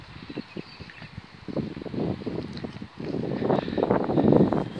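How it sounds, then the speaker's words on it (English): Wind gusts buffet a microphone outdoors by an old winding mill, making low, rumbling bursts that start uneven and grow heavier and more constant toward the end. "It's quite windy"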